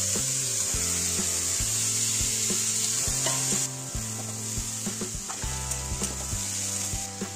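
Raisins and fruit sizzling in a frying pan for a Bengali-style pilau, giving a loud, steady sizzle with occasional stirring scrapes and taps, and no talking.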